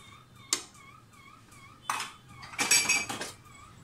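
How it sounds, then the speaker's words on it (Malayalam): A spoon scrapes and clinks against a metal pot while ada for palada pradhaman is stirred into boiling water, with a few sharp knocks and a longer rattle of stirring over a quiet background. "ഉടനെ ഇട്ടിട്ട് നന്നായി ഒന്ന് ഇളക്കി യോജിപ്പിക്കാം."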